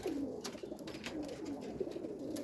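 Pigeons kept by a pigeon fancier, farm birds returning to the loft, cooing in low repeated murmurs that run steadily throughout, close by, with no talk.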